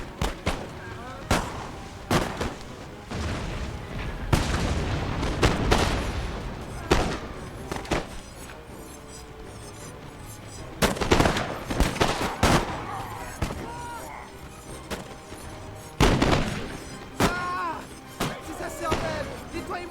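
Booming artillery and crackling rifle volleys in a siege battle in the video game Napoleon: Total War, with heavy thumps at irregular intervals over steady musket fire and a voice commentating over it.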